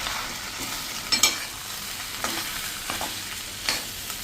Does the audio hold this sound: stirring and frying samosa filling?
yes